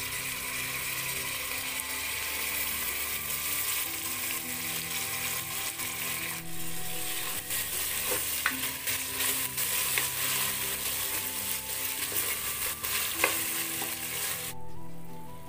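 Tomatoes frying in oil for brinjal biryani give a loud, continuous close sizzle, with a spoon scraping and clinking against the pan at irregular moments while they are stirred, no talking.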